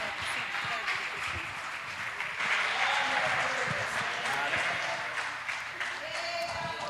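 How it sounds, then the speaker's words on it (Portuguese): A church congregation gives a round of applause for Jesus during a worship service, steady dense clapping that runs throughout, with voices and cheers mixed in. "E salva de palmas para Jesus"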